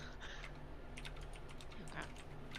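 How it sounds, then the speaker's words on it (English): Soft clicking of typing on a computer keyboard, scattered keystrokes heard faintly at a distance beneath a steady background hum. "I hear typing"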